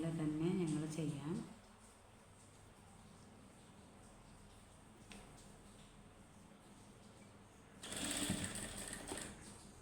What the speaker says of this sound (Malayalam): ഇതിൻ്റെ ഫിനിഷായി ഇങ്ങനെ സ്റ്റിച്ച് ചെയ്തു.